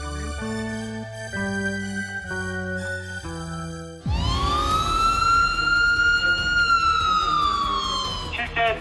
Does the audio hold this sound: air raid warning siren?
yes